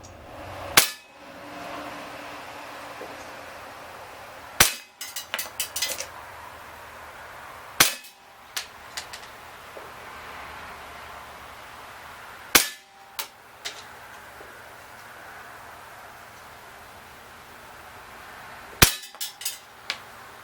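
Umarex Legends P08 Luger CO2 BB pistol fired in a field test: five sharp, loud single pops spaced several seconds apart, each followed by faint clinks and rustling in a quiet outdoor setting.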